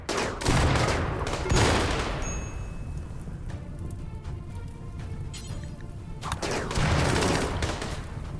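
Bursts of automatic gunfire in the RimWorld video game during a zombie mega swarm, heavy volleys near the start and end with a sparser stretch of shots between, loud and sustained.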